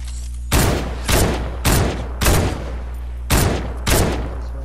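Gunfire from the new assault rifle in Fortnite: six loud, evenly spaced single shots fired at a slow, steady pace, each with a short reverberant tail, with no voices.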